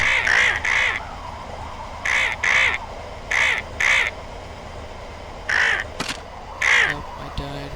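Crows in the Dune Raider video game caw loudly and close in short paired bursts, repeating about six times at irregular intervals across the scene.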